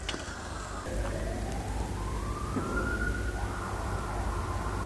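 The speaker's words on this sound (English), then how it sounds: "While I wait for the ambulance to pass" An ambulance siren wails steadily in the distance as it passes by, its pitch rising and falling over a constant background rumble of traffic, with no speech.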